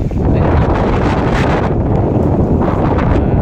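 Loud, constant wind buffeting the microphone with a roaring rush, gusting slightly throughout, close and overwhelming.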